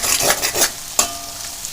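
Baby potatoes roast in a pan and get stirred, giving a few scraping, sizzling strokes up close, then a sharp clack of the utensil and a softer, steady sizzle afterward.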